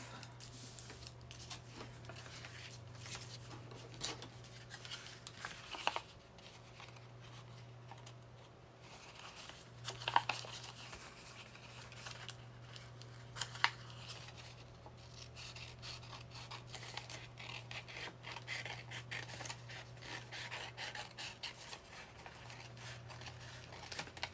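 Scissors cutting folded paper while making a tip-in page for a junk journal: soft, close snips and rustling paper handling over a low steady hum, with no talking.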